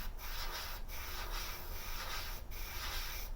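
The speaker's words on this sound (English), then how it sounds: "I listen to the airbrush. This one's slightly more noisy than the micro." Airbrush spraying paint on an Alien Xenomorph art piece, a steady close breathy hiss running almost without a break, with a few brief dips in flow.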